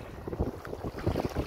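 Gusty wind buffets the microphone while kayak fishing on open water in Brunei, a close, rumbling bluster with uneven puffs over faint water sounds.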